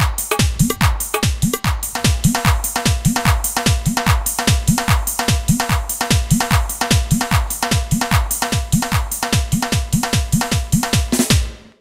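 A dhol single chati pattern is played on an Octapad electronic percussion patch, giving a fast, steady stream of loud, driving drum strokes with a booming low beat under crisp slaps, running continuously with no talking.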